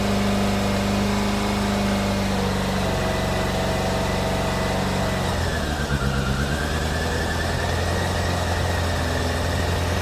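Suzuki Bandit 600cc motorcycle engine idling with the choke about half on, a steady close rumble that shifts lower and rougher partway through, with no talking.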